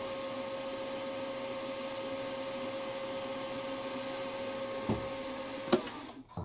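A milling machine with a 4mm spotting drill on a Warco WM16B hums with a steady, fairly quiet motor whine throughout, followed by a couple of faint cutting clicks and a soft knock near the end; no talking.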